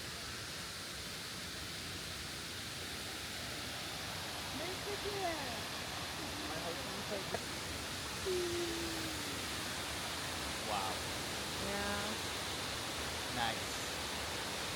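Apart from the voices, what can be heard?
Shiraito no Taki waterfall rushing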